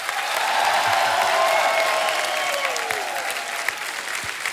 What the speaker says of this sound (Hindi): हमारे सभी मेहमानों के लिए एक बार जोरदार तालियां हो जाए।